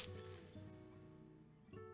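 A glass block breaking in Minecraft, a short bright shatter at the start, then a quiet ringing tail and a softer second clink, faint and alone.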